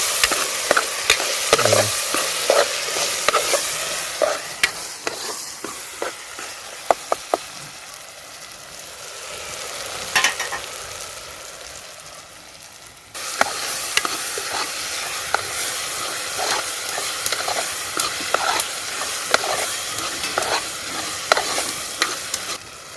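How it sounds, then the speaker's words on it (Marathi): Onion and tomato fry in oil for a village-style chicken curry cooked outdoors, with a continuous loud sizzle broken by repeated spoon clatters and scraping stirs; the frying swells louder partway through. "बघा मस्त कांदा आणि टोमॅटो आहे ना मस्त चांगला फ्राय झाला आहे तेलामध्ये."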